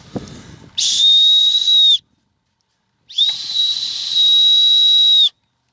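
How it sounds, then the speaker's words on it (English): Two loud, shrill blasts from a whistle built into a Petzl Tikka headlamp strap, the first short and the second longer, with silence between them and a little handling noise at the start. "They've included an integrated whistle."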